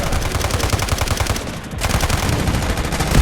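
Rapid gunfire from the Delta Force video game, dense automatic bursts with loud repeated shots, a brief lull near the middle, then continuous firing again.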